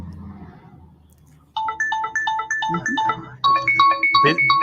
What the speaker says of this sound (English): Is that what I keep hearing the phone going off?